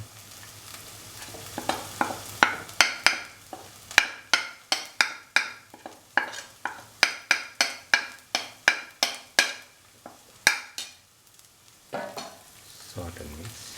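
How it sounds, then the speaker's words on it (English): A spoon scrapes and stirs coriander and turmeric powder through other ingredients in a sizzling pan, a rapid run of sharp, regular strokes over a soft frying hiss, close and fairly loud. "So that all the ingredients are completely mixed with the coriander powder and the turmeric powder."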